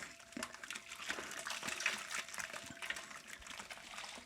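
A spoon stirs dry malt extract into hot water for stout brewing, giving a soft continuous swishing and faint clinking close by, with no talking.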